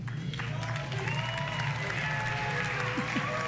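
Applause from the audience at an EA E3 press conference, a steady dense patter of clapping held at an even level for a few seconds, with faint voices mixed underneath.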